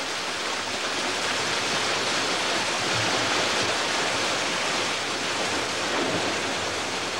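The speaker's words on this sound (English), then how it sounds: "then gradually released to form the many tumbling streams" Tumbling forest streams fed by mountain rainwater rush in a steady, dense broadband wash of flowing water, close and continuous with no voices.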